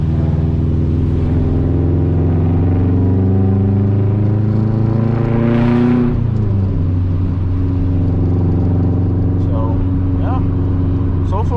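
A 2004 Subaru STI's engine drones steadily while driving, the pitch climbing under acceleration, then dropping sharply around a gear change before settling again, loud and close from inside the cabin with someone talking over it.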